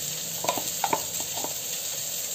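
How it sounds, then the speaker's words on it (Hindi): Ginger-garlic paste fries with softly browned onion in a pan for vegetable biryani, a quiet steady sizzle under a few light scrapes and taps of a spoon stirring, close and alone without speech. "अब इसे हम मिक्स करके 2 मिनट के लिए फ्राई करेंगे।"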